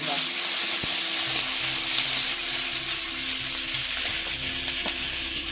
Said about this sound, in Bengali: পেঁয়াজ লঙ্কা এবারে ভাজা হয়ে গেছে